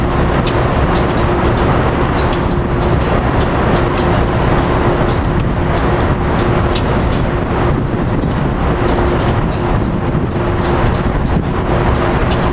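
Freight train with empty intermodal cars rolling past at close range, a loud continuous rumble and rattle of wheels on rail with a steady hum, no voices throughout.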